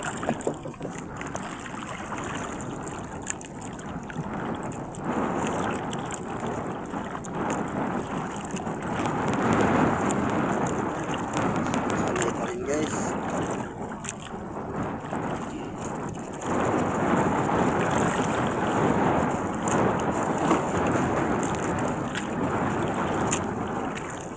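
Strong wind at sea buffets the microphone aboard a small fishing boat, a rough, gusting rush that swells and eases with water noise beneath it.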